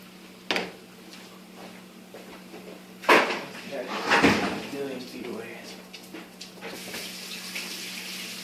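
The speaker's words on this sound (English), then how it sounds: "always wash your hands" Hands being washed under a running kitchen tap, water splashing steadily into the sink with a few louder surges and knocks, fairly close by.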